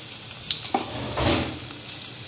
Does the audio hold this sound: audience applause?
no